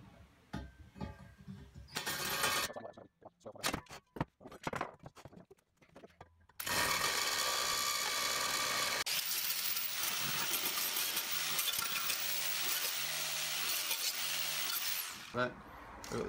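A power drill whirs in short bursts, then runs continuously as the bit grinds into the steel of a propane cylinder, with a person speaking early on.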